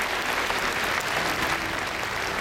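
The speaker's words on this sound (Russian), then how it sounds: "Аплодисменты. Ура!" An audience applauds at a Moscow government award ceremony for young scientists held in the Kremlin, a dense, steady roar of clapping that stays even and close throughout.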